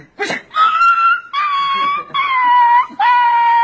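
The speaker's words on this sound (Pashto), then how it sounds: "Oh, this is doggy, my doggy." A dog whines in four long, drawn-out whimpers, each a sustained high-pitched wail separated by short pauses, loud and close.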